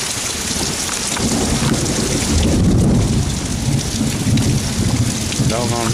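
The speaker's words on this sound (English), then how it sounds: "It's only been raining 5 minutes and the flower bed's flooded." Heavy rain pours down steadily, a dense, loud hiss with a deep rumble of thunder underneath and no talking.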